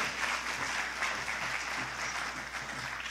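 At a screening reception at the Newark Museum, an audience gives a steady round of applause. The dense clapping is moderately quiet and roomy and holds evenly throughout, with no voices.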